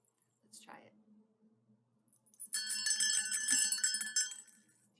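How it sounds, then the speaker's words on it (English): A small bell rings with bright, sustained tinkling that carries for about two seconds after a brief whispered voice and a soft tap beforehand. "Let's see if you can hear this bell."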